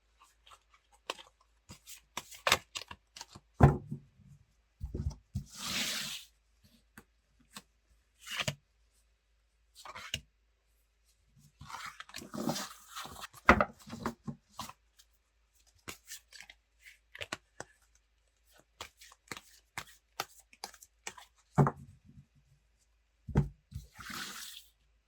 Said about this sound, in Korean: 우리 사랑분들의 현재 상황이 어떨지 카드 한번 뽑아볼게요